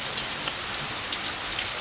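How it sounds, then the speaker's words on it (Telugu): Rain falls steadily on surfaces outside a house, a close, dense patter of drops that stays even throughout, with no voices. "వర్షం పడుతుంది, చూపిస్తాను చూడండి."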